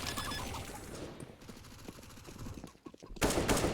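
AK rifle fire in a Counter-Strike match: dense, rapid bursts of shots through the first seconds, then a sharp loud burst near the end, all over a busy game-sound bed.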